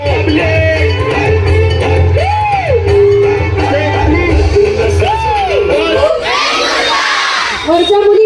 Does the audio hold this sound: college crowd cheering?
yes